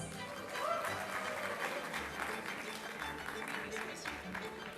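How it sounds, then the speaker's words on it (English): Applause from a graduation convocation crowd at a management institute, a faint, distant wash of clapping that holds steady throughout the clip. "And a big round of applause."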